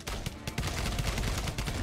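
Gunfire in the video game Pixel Privateers: rapid, dense bursts of shots in quick succession, loud and close, with a brief dip partway through before the firing continues.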